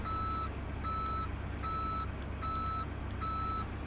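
Truck reversing beeps while backing in during FS:911, five evenly spaced electronic beeps repeating over a steady engine rumble, with no talk.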